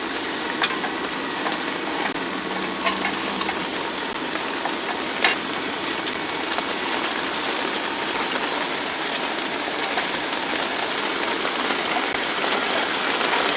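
Heavy rain pours steadily outside near a homemade metal forge, a dense, continuous hiss with scattered drop ticks lasting throughout, loud and close with no talking.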